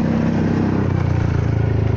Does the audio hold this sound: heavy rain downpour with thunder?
no